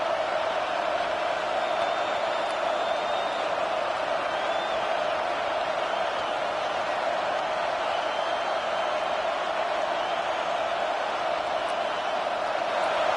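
A football stadium crowd during a Penn State game roars steadily in a loud, continuous wash of cheering and murmuring that never lets up, with no single voice standing out.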